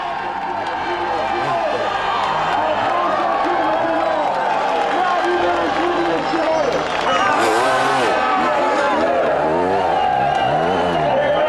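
A large crowd cheers and shouts for enduro motorcycle riders at the 1994 Gilles Lalay Classic, a steady roar of voices with engines revving, under a commentator's continuous speech.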